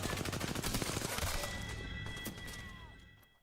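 A rapid burst of gunfire in the Apex Legends battle royale game, dense loud shots in the first second and a half that then fade into a quieter ringing tail.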